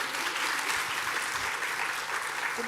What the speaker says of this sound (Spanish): apláudela, sí.